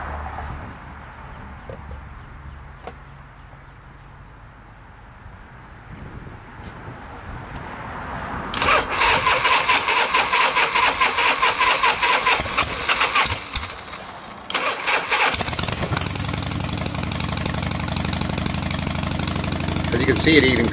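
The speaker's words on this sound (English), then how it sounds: "it even cranks over faster than the original battery cranks it over" An engine is cranked with a mini 12-volt, 400-amp jump starter, giving a rapid rhythmic churning that catches into a steady running roar, loud and close, with a person talking over parts of it.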